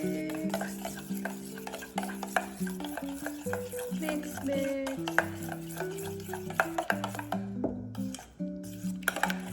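A sauce with powdered garlic and olive oil being mixed in a kitchen. Rhythmic stirring and clinking run throughout under loud background music, with the utensil tapping the container at an irregular pace.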